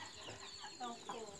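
Chickens and other farmyard fowl cluck in short, close calls on a rural homestead yard, a few broken clucks over quiet background.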